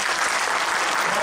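A lecture audience claps loudly and continuously, a thick, even wash of many hands from a large crowd, with a faint murmur of voices underneath.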